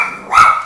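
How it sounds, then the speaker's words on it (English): A single sharp bark from a small ten-pound dog in the background, loud and close, with a brief high yip leading into it and no talking. "I think that's my 10-pound beast barking back in the background"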